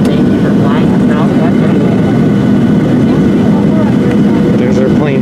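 Steady loud drone of an airliner's engines heard from inside the cabin during landing, continuous and close throughout, with voices talking over it.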